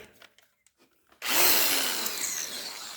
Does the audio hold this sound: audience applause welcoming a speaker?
no